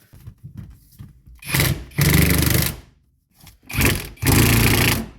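Bolts are tightened during a black interior swap in a BMW E39 Touring, heard as two loud buzzing bursts from a ratcheting tool, each lasting about a second, separated by short pauses and fainter clicking.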